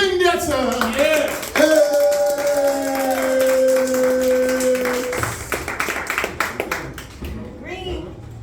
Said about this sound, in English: Clap it up for the comedy stylist of Vendetta